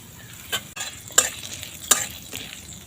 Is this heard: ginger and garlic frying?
yes